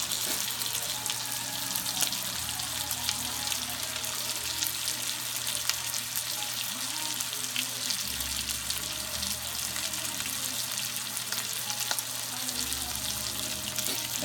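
A pot roast sears with herbs in a hot pan, giving a steady, dense sizzle and crackle with small pops, continuous and close throughout, with no one talking.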